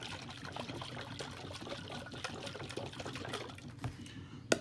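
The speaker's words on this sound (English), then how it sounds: "I could probably hear the water if I put it to my ear, right? The liquid shaking around in it." Water sloshes inside a sealed glass jar with a metal lid, a steady, close, grainy rustle of shaken liquid that runs throughout, ending in a brief sharp knock.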